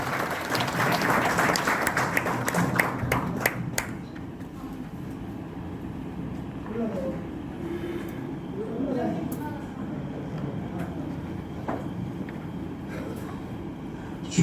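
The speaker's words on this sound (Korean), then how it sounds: "박수 부탁드립니다." Applause from a rally audience in an indoor hall, loud and dense for about four seconds, then fading into a murmuring room with scattered voices and a few claps.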